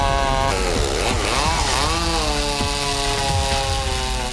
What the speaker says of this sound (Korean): 대형 전기톱으로 길이대로 나무를 켜나간다